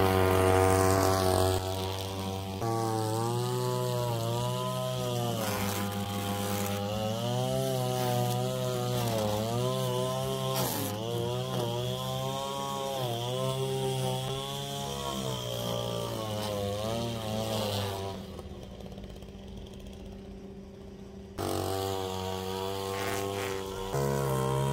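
A Wild Badger 3-in-1 trimmer runs steadily while cutting grass in a garden, its high buzzing engine whine rising and falling in pitch as it bites in, close and continuous, with a brief dip near the end.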